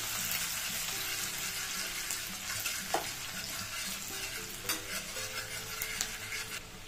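Onions stirred and fried in a pan, with a soft steady sizzle and scattered scrapes and clinks of the utensil, heard close but fairly quiet, with no speech.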